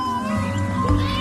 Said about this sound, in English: Your cat is annoying me.